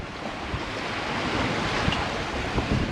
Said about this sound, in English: Nice and sunny and decent wind. In fact, a lot of wind.